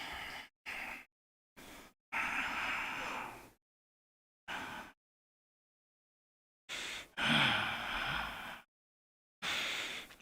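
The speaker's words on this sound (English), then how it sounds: "Breathing, kidney breathing." Slow, deep breaths drawn in and pushed out during a guided kidney-breathing exercise, heard as several separate breathy bursts of varying length, close and fairly soft, separated by stretches of silence.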